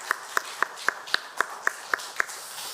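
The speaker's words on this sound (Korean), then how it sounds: "하나님께 감사하며 오늘 박수를 한번 했으면 좋겠습니다" A congregation in a church, with about ten slow, evenly spaced claps that sound like a single person or a small group rather than full applause, fairly near over a quiet room.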